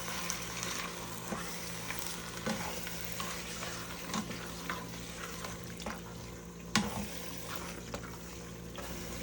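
A pot of homemade chili with canned ingredients gets stirred, a steady wet scraping and soft sizzle running throughout, with an occasional louder clink of the spoon against the pot.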